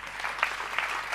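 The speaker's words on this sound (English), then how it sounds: "I expected more applause than that for our" Audience applause at the launch event for the International Decade of Indigenous Languages, a steady wash of clapping from a crowd lasting about a second with no voices over it.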